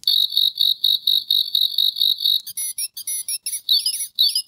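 Prank noise-maker gadget emitting a shrill electronic buzzing meant to mimic a fly, rapid repeated pulses followed by warbling chirps, thin and high-pitched, close and alone without any talk.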